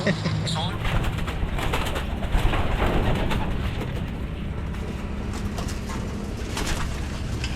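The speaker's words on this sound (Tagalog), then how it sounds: "Napakakapal po ng mga ibon po natin." Pigeons from a large flock on a training flight coo and flutter continuously over a busy background, with people talking throughout.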